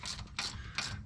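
A wrench tightening a 10 millimeter bolt on an FJ Cruiser, three faint close ratcheting clicks spaced evenly within about a second.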